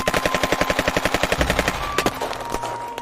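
Rapid bursts of enemy gunfire crackle in a steady automatic rhythm, loud and close, then thin out into a few scattered single shots with a faint lingering tone.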